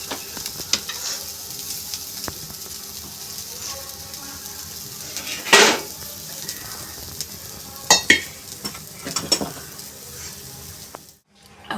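Corn sizzles and fries in a pan, with intermittent stirring scrapes and a few louder clinks of a utensil against the pan over a steady hiss, before the sound cuts off abruptly at the end.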